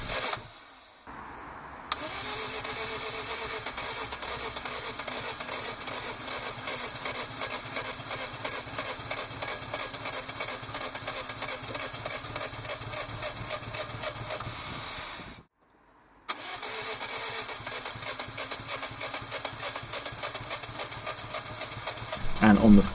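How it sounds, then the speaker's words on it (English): An old Daihatsu Cuore Avanzato TR-XX engine, after a long-overdue oil change, cranks and sputters into a rough, uneven running rhythm, cuts out briefly, then catches again and keeps running loudly. "I had an engine turning on its own, albeit very roughly at first"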